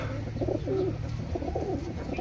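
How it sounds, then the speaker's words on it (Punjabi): Pigeons cooing close by, two soft throaty rolling coos in quick succession over a quiet background hum. "ਆਪਣਾ ਇੱਕ ਕਬੂਤਰ ਉੱਡ ਗਿਆ"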